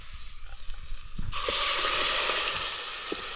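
Marinated, pressure-cooked mutton hits hot spiced tempering in a pan with a sudden loud, steady sizzle that starts about a second in and holds strong to the end, with a few faint clinks before it.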